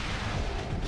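A Super Missile striking a boss in Metroid Prime, a loud, booming explosive impact filling the short moment with rumbling noise.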